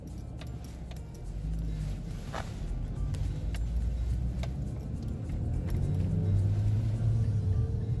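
A Citroën C4 car accelerating on a road, its engine a steady low rumble that swells gradually over about eight seconds, heard from inside the cabin with no talking.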